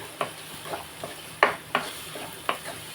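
Curry with freshly added turmeric is stirred in a pan: a series of distinct spoon scrapes and clacks at an uneven pace over a faint low sizzle, close up and without speech.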